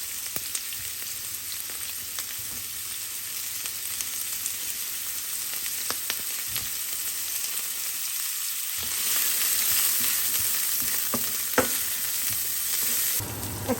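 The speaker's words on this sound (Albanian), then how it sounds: "Pasi që vaj është nxehur, i morim copat e sugjukut, qesën me tigan, edhe spejsen e gjelbet" Sujuk pieces and green peppers fry in hot oil in a pan, a constant crackling sizzle with occasional sharper pops and stirring clicks, close and continuous throughout.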